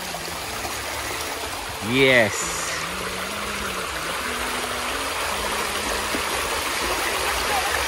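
Lagnas River flowing steadily at a riverside in Sariaya, Quezon, a constant broadband water rush throughout, with people talking briefly over it.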